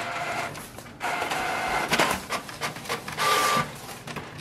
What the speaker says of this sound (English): So we can print a test page for the confirmation if our printer is